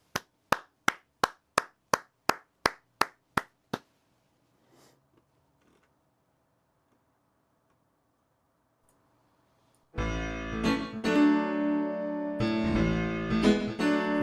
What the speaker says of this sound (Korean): 우리 박수 치실까요?